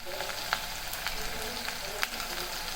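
Tomatoes fry in a hot pan with a steady, close sizzle and a few brief crackles and pops, cooking for an aloo bhaji.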